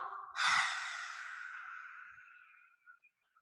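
A single long exhale during a yoga breathing exercise, starting with a sharp rushing breath and fading slowly over about two seconds, followed by faint small breath sounds.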